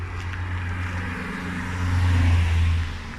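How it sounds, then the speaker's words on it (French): A car passes by on a road, its engine rumble rising over a steady background drone, peaking briefly, then easing off. "on laisse la voiture passer"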